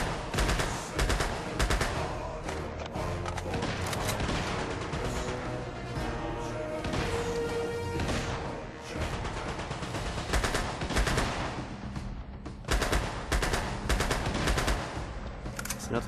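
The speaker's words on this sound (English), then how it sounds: "Another guy shooting somewhere." Dense gunfire from Uncharted: Golden Abyss, a loud, sustained stream of rapid shots and bursts layered over game music and effects for the whole stretch, with no talk.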